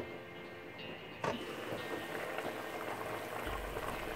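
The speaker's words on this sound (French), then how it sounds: "et je laisse mijoter" Beef broth simmering in a covered pot, a steady soft bubbling and liquid murmur that holds evenly throughout, with a brief knock near the start and a low rumble toward the end.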